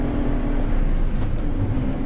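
Aston Martin GT4 race car accelerating hard on the main straight at Yas Marina Circuit, a loud, steady engine roar close to the cockpit that holds throughout, with faint high whines and brief gear-change blips.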